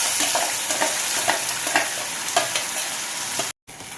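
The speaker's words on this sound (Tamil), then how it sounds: "இதை கொட்டி நல்லா கை விடாமல் கலந்துக்கிட்டே இருக்கணும்" Ground tapioca paste is stirred nonstop in ghee in a hot pan, making a constant close sizzle broken by repeated scraping strokes, with a brief dropout near the end.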